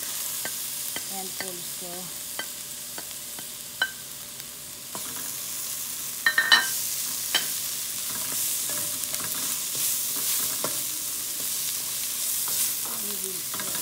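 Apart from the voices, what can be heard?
garlic frying in a pan for dal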